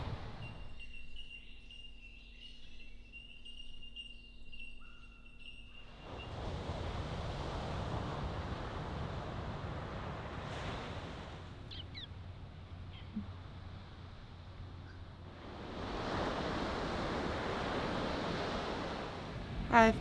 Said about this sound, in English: can you hear the ocean?